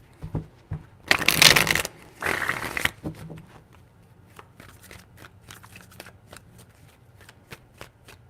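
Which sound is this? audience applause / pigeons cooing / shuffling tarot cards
shuffling tarot cards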